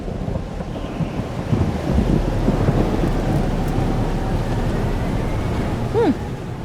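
Heavy rain and a rolling thunderstorm in Life is Strange: Double Exposure, with a steady loud wash of rainfall, wind and low rumbling throughout, and a brief tonal sweep near the end.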